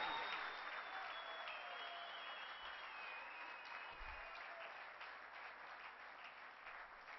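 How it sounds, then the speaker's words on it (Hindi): Audience applause at an award ceremony, a steady distant wash of clapping that fades slightly over the seconds, with a faint tonal whine running through it and no voices. "बहुत जोरदार तालियां होनी चाहिए आप सब के"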